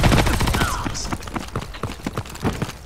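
Rapid bursts of gunfire from a high fire rate gun in the Ghost in the Shell video game, a dense run of sharp shots that thins into scattered pops, with faint voices underneath.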